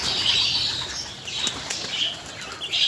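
Pigeons flap their wings as they fly in to grain scattered for them, a burst of close, loud wingbeats with a few faint chirps and coos mixed in.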